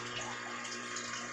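Dirty water scooped out of a neglected aquarium and poured into a bucket, a steady broad rushing and splashing of water running throughout the short stretch, fairly close and without pauses.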